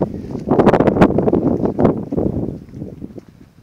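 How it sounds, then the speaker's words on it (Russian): Strong gusting wind at Palmela castle in Portugal buffets the microphone, loud rough blasts rising and easing over a few seconds, with no talk. "По-прежнему дует сильный ветер."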